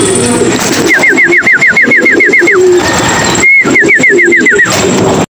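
Repeated rising, whistle-like pigeon calls in two rhythmic bursts over steady background chatter and noise during a pigeon race; close and clear, no speech.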